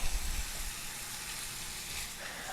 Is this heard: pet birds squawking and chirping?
no